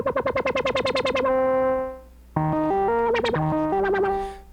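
Sine wave from a homemade DIY synth controlled by a foot pedal, starting as rapid pulsing warbles, then holding steady tones that step up and down in pitch before squealing out of control, with no talking.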